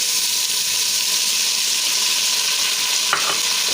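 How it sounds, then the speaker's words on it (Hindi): Ginger garlic paste fries in a pan with a loud, continuous close sizzle, with a short scrape of stirring near the end. "अदरक लहसुन है तो हम एक डेढ़ मिनट के लिए फ्राई करेंगे"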